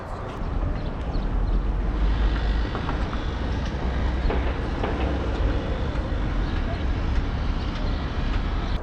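A train running on the railway across Mongolia gives a steady, loud low rumble with rolling rail noise throughout, close and continuous with no pauses.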